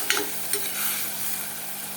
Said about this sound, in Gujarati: હલાવી હલાવી લઈશું તેને